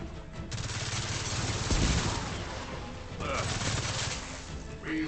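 Gunfire in Gears of War crackles in dense, rapid bursts layered over battle noise, loud and continuous, while a voice speaks briefly under the shooting.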